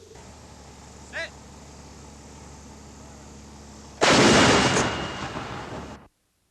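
A single loud gunshot from a rifle on a training range, close and booming, with a short rumbling tail. A faint shout comes shortly before it.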